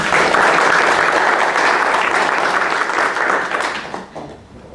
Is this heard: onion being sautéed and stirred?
no